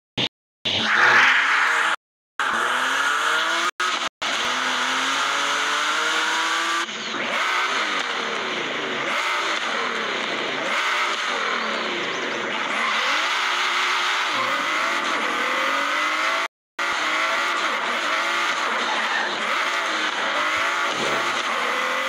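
Three-wheeler car engine in Forza Horizon 5, a racing video game, revving and accelerating with rising and falling harmonic sweeps and some tire squeal, loud and continuous through brief gear-change drops, with no talk over it.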